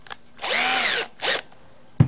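A handheld power drill with a cotton earbud fastened in the chuck, used for polishing a motorcycle carburettor part, whirs up in one long burst and then a shorter second one, loud and close, with no talk.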